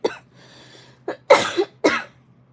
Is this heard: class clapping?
no